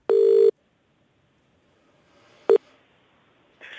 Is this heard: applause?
no